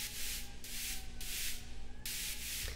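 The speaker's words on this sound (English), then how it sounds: "So the white noise alone sounds like this" Rhythmic layer of bright white noise in a future bass production, pulsing in short bursts that follow the super saw chords, with a steady low synth tone underneath and no talk.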